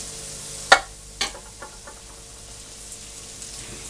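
Chopped celery, onion and mushroom land in hot olive oil and butter in a pan for a stuffed acorn squash dish: a sharp hit, a second clatter, then a soft, steady sizzle settling in, close by with no talk.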